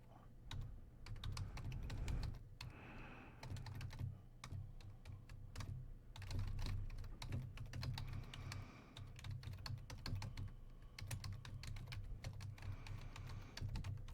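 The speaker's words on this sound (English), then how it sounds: "Oh yeah, I'm typing real good." Quiet, steady clatter of fingers typing on a computer keyboard, rapid key clicks with brief pauses, nearby and soft.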